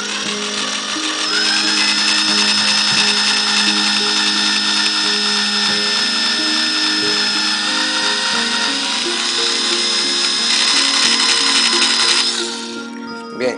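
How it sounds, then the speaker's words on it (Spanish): Power drill boring a vertical hole into a wooden pole, a loud steady whirring and grinding that holds for many seconds before winding down, with no talking. "Ahora tenemos que hacer dos taladros."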